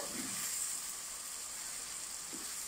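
Garlic and ginger fry in a pan with a soft, steady sizzle and hiss throughout, low in level with faint stirring touches.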